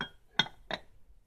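Two bright glass clinks about a third of a second apart, sharp and close, as a glass piece is handled, with quiet between them.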